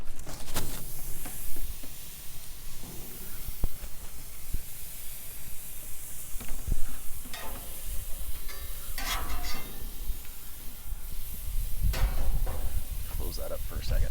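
Burgers sizzle on a grill beside tomatoes charring on the top shelf, for a Hawaiian loco moco. The hiss is steady and close, with occasional clatter and faint voices in the background.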